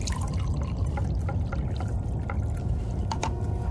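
Coffee poured from a pot into a cup as a radio drama effect, a continuous low liquid gurgle with small splashy drips on top, close and steady for a few seconds.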